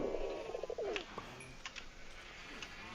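Pigeons coo in a modded Minecraft game, a low burbling call rising at the start and trailing off, with a few faint clicks and chirps over soft ambient noise.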